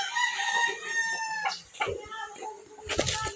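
A rooster crows loudly and close, followed by clucks and scratchy fowl sounds, with a voice briefly mixed in.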